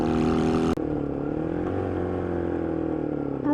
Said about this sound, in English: I will record and upload a full review of this bike, which is a WK125 Cruiser